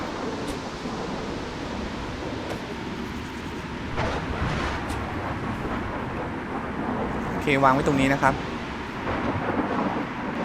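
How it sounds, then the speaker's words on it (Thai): A steady roaring, hissing wash of wind from a sandstorm in the video game Gas Station fills the whole stretch, with someone talking briefly over it. "ในเกมนี้จะมีพายุทรายด้วยนะครับนี่ไงครับ"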